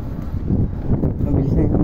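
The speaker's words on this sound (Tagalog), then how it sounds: "Malakas na nga yung hangin eh." Strong wind buffets the microphone with a continuous low rumbling roar, and a voice can be heard faintly mixed in beneath the gusts.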